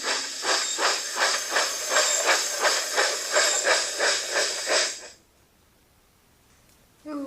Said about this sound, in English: Can you hear the train coming?